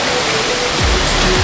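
Continuous, loud rushing roar of the Phu Pha Man waterfall, heard close up and without pause, with a couple of low thumps of wind or handling noise.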